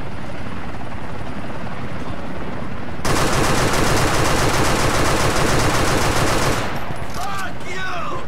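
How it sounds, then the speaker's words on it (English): Helicopter rotor roar in Grand Theft Auto IV bursts in abruptly and loud, a steady chopping drone that holds for several seconds before cutting away, leaving faint chirps and scattered bursts behind. "Helicopter?"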